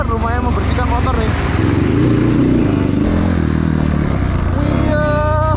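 A motorcycle with a rough-running engine rides through a river: a loud, close, steady engine drone with shifting revs, while people talk over it.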